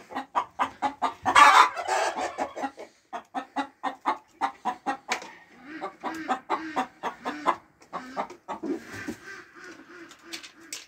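Chickens and a rooster cluck repeatedly in short, choppy bursts, close by, with a louder squawk near the start.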